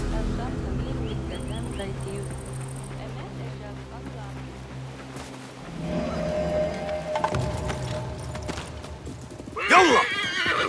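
In Assassin's Creed Mirage, horse hooves clop under a musical backdrop, then a horse lets out a loud neigh near the end, with soft rain-like patter in the background.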